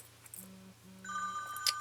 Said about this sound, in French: Désolé pour ce petit coup de téléphone.